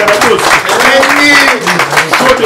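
Scattered clapping from an audience at a press conference runs beneath voices talking and calling out, with the applause partly masked by the speech.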